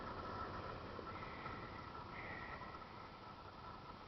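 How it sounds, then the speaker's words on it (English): Steady low engine drone with a constant broadband hum, continuous and fairly close, no voices. "If you all can hear the engine noise"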